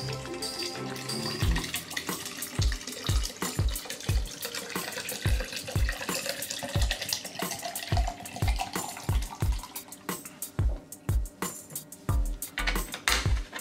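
Preservation liquid pours into the base of an Unger HiFlo RO30GC resin water filter, a continuous splashing, gurgling stream with rhythmic low glugs throughout, close and fairly loud.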